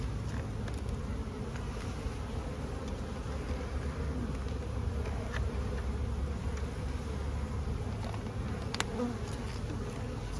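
Honeybees swarm around the frames of a small hive being filled with nectar, making a dense, continuous buzzing drone that holds steady and fairly loud throughout, with no talking.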